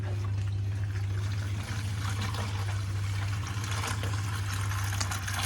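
Clean water pours and trickles in a steady, continuous stream close by, with a low constant hum running underneath and no talking.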